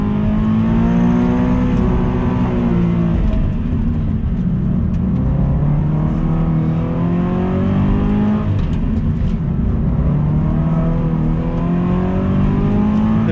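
A Subaru BRZ's loud engine revs and accelerates steadily on a skid pad, its pitch rising and falling as the car pushes through a sustained turn.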